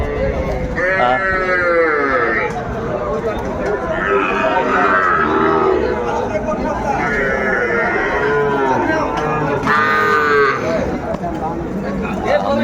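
Young bulls, heifer calves and other livestock call out repeatedly over a busy, constant crowd murmur at Ambari cattle market, with several drawn-out moos rising above the background chatter.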